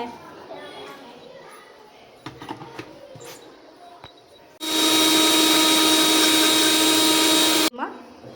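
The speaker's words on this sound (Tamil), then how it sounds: "ஓகே, நான் அரைச்சிட்டு வந்துடுறேன்" A mixer grinder grinds onion at home in a kitchen, a loud steady whine starting abruptly and running for about three seconds before cutting off, preceded by quieter household noise and children's voices.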